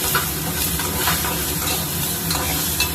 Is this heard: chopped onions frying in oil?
yes